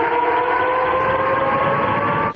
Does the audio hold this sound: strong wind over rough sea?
no